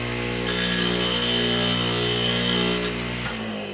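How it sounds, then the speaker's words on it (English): A foot-pedal polisher buffs a nail for an old model boat, giving off a steady, loud, close motor whine that holds for a few seconds and then winds down near the end. "I polish the front of the nail here, right, and then just the back of it quickly."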